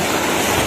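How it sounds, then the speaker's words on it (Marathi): Rough sea waves at Uran beach, a loud, broad roar of surf up close, very brief with no voices. "फारच समुद्र खवळलेला आहे आणि बघा पाणी आणत आहे"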